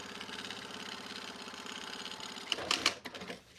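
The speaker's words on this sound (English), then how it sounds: "I wonder how loud the sewing machine is." A sewing machine runs steadily with a fast mechanical whir, then stops with a few clicks and clunks at the end.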